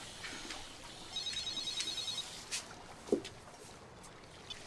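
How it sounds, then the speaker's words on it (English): A cell phone rings softly in a quiet room, a faint repeating electronic tone with a few short bursts and small thumps around it, with no voices. "Nick, your cell phone."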